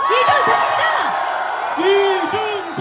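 Loud rally crowd at a Reform Party presidential candidate's campaign launch, with dense cheering, whoops and shouts swelling and falling throughout, and a voice calling out over the din.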